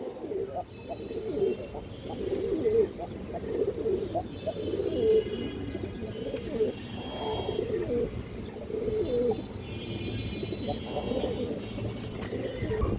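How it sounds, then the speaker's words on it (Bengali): Pigeons coo repeatedly in a loft where a large red khaki female pigeon is kept, their soft low calls steady and continuous, with faint chirps above and occasional speech nearby. "অনেক সুন্দর একটা লাল খাঁকি মাদি কবুতর সাইজের বড় আছে"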